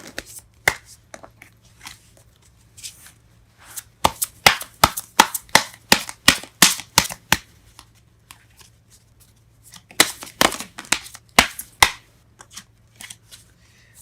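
Tarot cards being shuffled in crisp, rapid bursts of riffling and snapping, with two dense flurries separated by quieter, sparser handling, close and clear with no talking.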